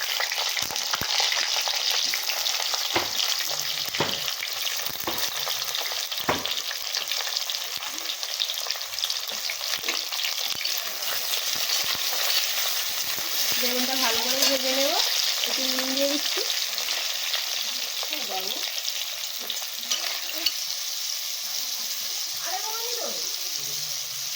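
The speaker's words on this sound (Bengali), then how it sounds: "তেল গরম হয়ে গেছে এবার বেগুনগুলো দিয়ে দিচ্ছি" Eggplant pieces fry in hot oil in a wok with a continuous loud sizzle that runs throughout, marked by occasional stirring clatter, while someone talks intermittently over the cooking.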